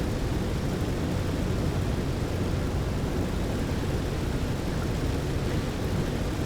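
A P-47 propeller fighter taxiing in the DCS combat flight simulator, a steady broadband engine and propeller drone that holds level and unbroken throughout, with no voices.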